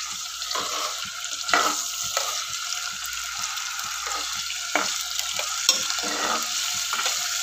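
Chopped ginger and chicken sizzling and frying in a pot for chicken tinola, with a spoon stirring and scraping in repeated strokes over the constant hiss of hot oil.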